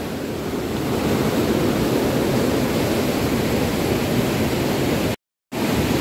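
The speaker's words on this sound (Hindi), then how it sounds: "इतनी खतरनाक नदी आई है कि पूछो मत।" A flooded river in Kullu Mandi gives a continuous, loud, full roar of rushing water with no pauses, close to the microphone, broken only by a brief cut near the end.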